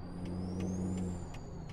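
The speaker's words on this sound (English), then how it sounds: "And slam my brakes." Truck air brakes in the Euro Truck Simulator 2 game give a steady low rumble and a thin high tone, with faint regular clicks over it, heard up close without talk.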